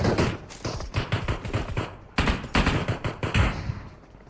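Rapid automatic gunfire in the PUBG Mobile battle royale game, two quick bursts of close, loud shots split by a brief pause, no voices over them.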